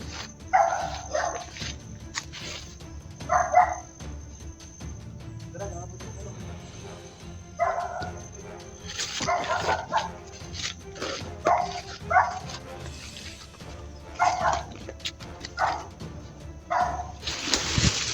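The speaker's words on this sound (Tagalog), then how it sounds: "Mag-iingat tayo sa aso." A dog barks repeatedly outdoors in short separate bursts, some closer and sharper than others, while people talk intermittently in between.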